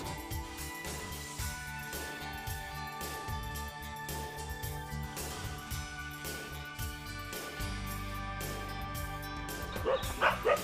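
Several dogs bark and yip repeatedly around a village at the start of a night hill-fort trek, the sound coming from different sides in a steady jumble of barks, fairly distant and moderate in level.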